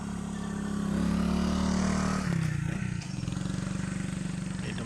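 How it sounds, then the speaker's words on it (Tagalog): A motorcycle passes on a mountaintop road overlooking distant towns at night, its engine drone swelling loud and close, then the pitch drops and it fades as it moves away, with no talk over it. "May dumaan na motor."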